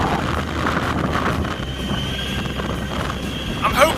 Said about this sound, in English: That wind is freezing. That wind's so cold.